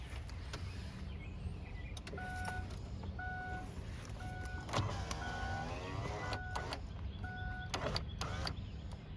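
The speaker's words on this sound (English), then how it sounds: "we're going to roll the window down about halfway before we take the door apart" Power window motor in a Kia Rio door whirring as the glass rolls down partway, a steady mechanical hum with a few clicks and small knocks, heard close against outdoor background noise.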